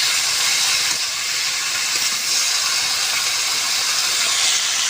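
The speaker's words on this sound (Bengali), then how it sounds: "আর কি সুন্দর করে ভেজে নেবো" Boiled pumpkin greens sizzle steadily in a hot pan, a loud, continuous frying hiss with no pauses and no voices.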